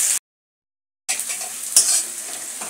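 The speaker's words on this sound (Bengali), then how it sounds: "পেঁয়াজটা দেখুন আমার লাল লাল করে ভাজা হয়ে গেছে।" Onions stirred and frying in a pan for a dried fish curry, a bright sizzle with scraping strokes, cut by a second of silence before the frying resumes close up.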